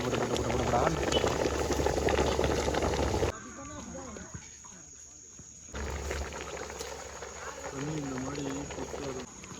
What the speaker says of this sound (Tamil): கொதிக்கு